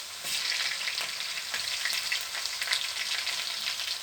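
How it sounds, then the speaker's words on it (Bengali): Onions and chilies fry with ginger paste in a pan, giving a steady close sizzle with a scraping stir now and then, alone with no talk. "এগুলোকে একটু বাদামি কালার হওয়া পর্যন্ত কষিয়ে নিব"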